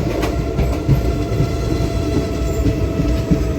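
A passenger train on the Secunderabad–Kazipet main line near Pagidipalli Junction runs at speed, heard from inside a 3AC coach as a loud, steady rumble with rhythmic clickety-clack of wheels over rail joints.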